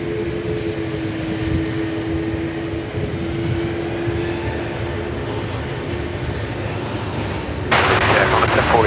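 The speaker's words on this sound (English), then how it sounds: "Let's enjoy this one, the A380" Qantas Airbus A380 taking off at Sydney Airport, a loud sustained engine roar with a low droning tone, then an abrupt burst of harsher broadband noise near the end.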